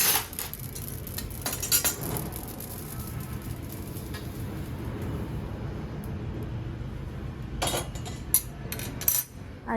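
Roasted poppy seeds scooped from a pan with a utensil, giving soft scraping and rustling over a steady low background, with a few sharper metallic clinks near the end.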